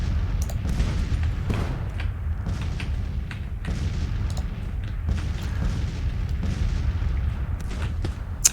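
Artillery fire in the American Civil War strategy game Grand Tactician, a constant rumble of distant booms and cannon shots rolling on and on as a dense, low battlefield roar.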